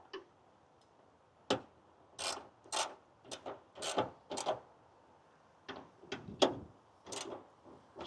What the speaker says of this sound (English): I did have to get an extension on this 12mm socket in order for it to reach this bottom one.